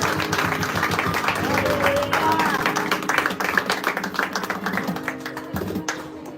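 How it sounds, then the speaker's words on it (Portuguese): A church congregation applauds steadily at a tent inauguration service, many hands clapping together with rhythmic taps and a few voices calling out over the clapping. "Você pode aplaudir o Senhor."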